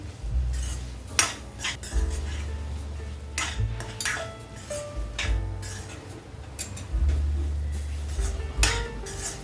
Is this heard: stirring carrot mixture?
yes